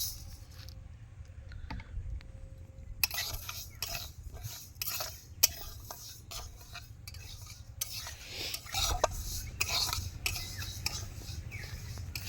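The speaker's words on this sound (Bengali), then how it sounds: "তো এবার ডাল মাখানির মুগ ডালটা ভেজে নেবো" Mung dal is dry-roasted and stirred in a pan, with repeated scraping and rattling of a spatula against metal, a light sizzle beneath, steady and close.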